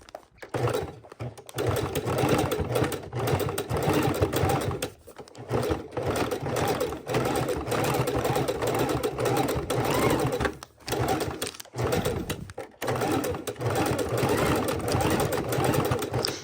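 A sewing machine runs steadily while thread-painting stitches on raw edge appliqué, a continuous mechanical whir with a few brief pauses, loud and close.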